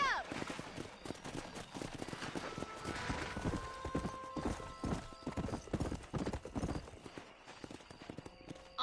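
Horse hooves galloping while riding in Red Dead Redemption, a fast, steady clip-clop rhythm close up, with occasional whinnies, brief voices and game effects running the whole way through.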